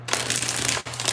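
Tarot cards shuffled by hand, a dense continuous papery rasp with one short break near the end, close and fairly loud.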